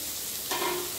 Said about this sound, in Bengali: হলুদ আর জিরেটা ভেজে নেব